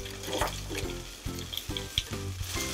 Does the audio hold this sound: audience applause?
no